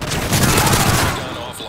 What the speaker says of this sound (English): taking heavy fire. Hostiles inbound.